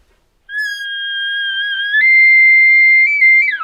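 A human caller imitates an elk location bugle: one high, whistling note held for about three seconds, stepping slightly higher partway through, then breaking downward at the end. It sounds close and clean over silence.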